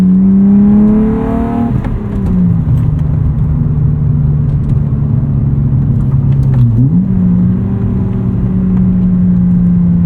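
A 1995 BMW E36 325i with a five-speed manual, heard from inside the cabin while driving: a loud, steady engine drone rises and falls through revs, dipping briefly around a shift before climbing again.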